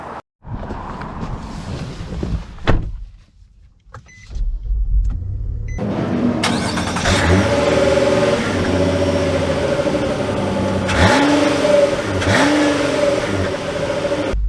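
A 2023 Nissan Murano SL starts up and accelerates, its engine rising to a steady strong drone with a cabin hum and brief shifts in pitch, heard from inside the car.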